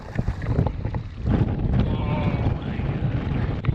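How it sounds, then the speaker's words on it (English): Strong gusts of 30-plus knots roar over open water around a small inflatable paddleboard at sea, a loud continuous buffeting of wind across the microphone with splashing underneath. "that's at least 30 plus knots of wind"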